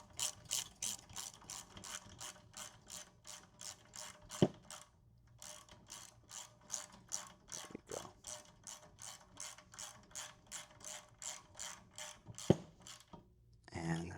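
Ratchet wrench tightening a roof rack LED light bar mount, a long run of rapid rhythmic clicking strokes with short pauses between bursts, close and fairly quiet.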